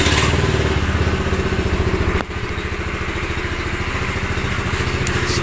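A Rusi Pulse 150 FI motorcycle engine runs with a rapid, even putter throughout. A brief thump and dip comes about halfway, then the steady idle continues close by, loud and alone.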